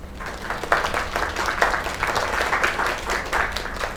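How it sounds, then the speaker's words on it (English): A crowd applauds steadily in the video game Lake, a dense patter of clapping that holds at even loudness throughout. "Another round of applause."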